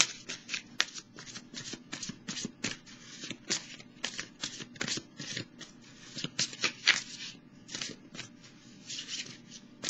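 Tarot cards being shuffled by hand, a rapid run of crisp riffling flicks and slaps that continues steadily and close up throughout, with no talking.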